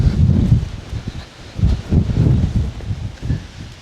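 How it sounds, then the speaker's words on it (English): Strong gusty wind on an exposed hilltop buffets the microphone in loud, surging low rumbles that rise and fall in waves, with no voices. "The wind up here, God."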